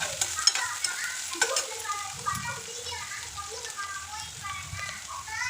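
Chopped onions and dried red chillies sautéing in a pan for an Indian egg gravy, a crackling sizzle with sharp scraping and clinking from stirring, while a voice talks in the background.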